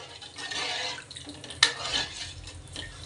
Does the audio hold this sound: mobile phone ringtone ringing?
no